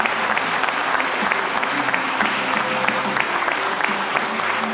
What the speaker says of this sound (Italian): facciamo un grande applauso a Matteo